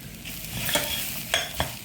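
Chili powder stirred in a pan of hot oil over low heat, a soft continuous sizzle broken by a few brief scraping strokes of the spoon, close and fairly quiet.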